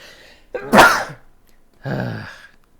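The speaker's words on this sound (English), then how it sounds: "I think I'm going to sneeze again" A person sneezes once sharply, then lets out a second, softer burst a moment later, close and alone with no talking.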